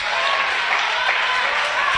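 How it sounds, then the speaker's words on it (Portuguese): Audience clapping during a church service, a dense, continuous burst of applause heard close and loud throughout. "Pode aplaudir a Ele, pode glorificar."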